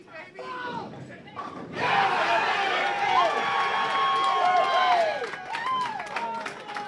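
Loud crowd cheering and applause erupts at a bowling tournament bracket final after a strike shot, swelling suddenly and holding steady for several seconds before tapering off.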